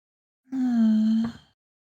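A sleeping female character in the video game World End Syndrome gives one drawn-out, low moaning breath that swells and fades over about a second. It is soft and close, with no talking.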